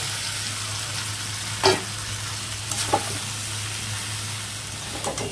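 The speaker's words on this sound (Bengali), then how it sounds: "ফুলকপিটা ভালো করে মশলার সাথে নাড়িয়ে চাড়িয়ে নেব" Cauliflower is tossed in a spiced Bengali masala, a dense steady hiss of frying with a few faint scraping stirs of a spoon, close by and without voices.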